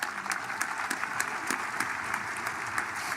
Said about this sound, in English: Let's clap for that one.